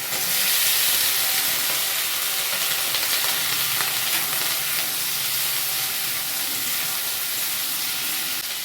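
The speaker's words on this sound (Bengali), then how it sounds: "শসাটা ভালো মতো ভাজা হয়ে গেছে" Sliced cucumber with ginger paste sizzles steadily in a pan for sukto, a continuous close frying hiss with soft stirring scrapes throughout and no voices.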